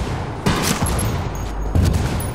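Bursts of gunfire ring out in a fast-paced tactical shooter video game, with sharp volleys near the start and again toward the end over a dense, continuous battle background.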